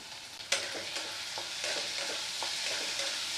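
Spices with turmeric and Kashmiri chili powder stir-fried in a pan for ghugni, a steady close sizzle broken by sharp scrapes and taps of the spoon against the pan, with no talking.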